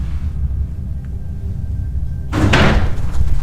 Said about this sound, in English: That door just slammed shut.